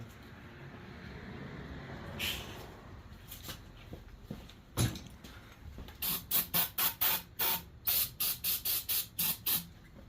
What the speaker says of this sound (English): Let's see if I can find my carb choke cleaner. See how it spritz in.